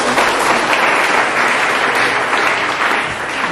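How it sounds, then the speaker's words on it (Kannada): Loud, sustained applause from a large audience at a public function for farmers, dense and even throughout with a slight easing at the end. "ಅವರಿಗೆಲ್ಲ ಜೋರಾಗಿ ಒಂದು ಚಪ್ಪಾಳೆ ಹೊಡಿರಿ"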